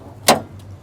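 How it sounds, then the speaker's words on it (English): Hood release on a 1972 Lincoln Continental MKIV with a 460 engine, a single sharp mechanical pop or clunk, close and fairly loud, followed by a faint softer knock and low background hum. "Let me show you the hood popping downstairs here."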